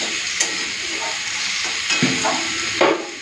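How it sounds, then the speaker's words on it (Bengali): Mixed vegetables frying in a pan, a continuous oily sizzle with a few sharper scraping stirs of a spatula, close and steady throughout. "সবজিগুলোকে একটু লাল করে ভেজে নিই"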